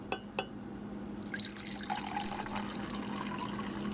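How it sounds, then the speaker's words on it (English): Wine pours into a glass in a steady, close liquid stream, rising to a continuous splashing gurgle after a couple of small knocks at the start, with no talking. "let's safely pour the wine into the glass"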